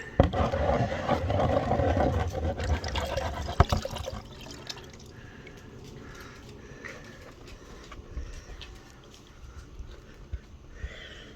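Water swirls and sloshes in a gold pan, with gravel and heavy material being worked toward the bottom while panning outdoors. Busy splashing comes first, then softer, intermittent swishes and small clicks of stones against the pan.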